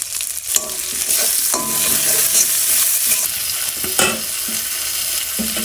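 Chopped onion, garlic paste, chopped tomato, turmeric and chili powder fry over panch phoron spices, a steady close sizzle broken by repeated scraping stirs of a spatula in the pan.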